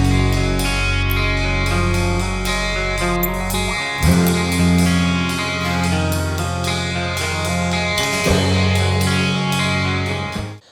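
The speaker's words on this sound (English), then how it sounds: "the beginning of the song is going to start with a beat on the ride cymbal" Drum beat for a song played on the ride cymbal, heard as a steady, fast run of bright metallic strikes over a dense, loud backing with deep low tones, ending in a brief fade.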